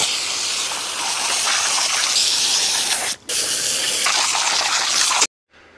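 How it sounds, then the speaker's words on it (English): A water hose sprays cleaned 1JZ engine parts in a loud, steady close-up hiss that breaks off briefly once and then stops near the end. "So we're just gonna give it a nice hose down."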